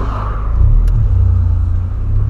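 A Volkswagen Polo fitted with a sports exhaust revs up close by, giving a loud, deep, rumbling engine roar that holds steady through a short burst of throttle.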